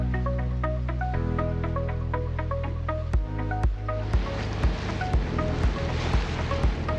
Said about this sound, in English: Oh, dang. The motor's on.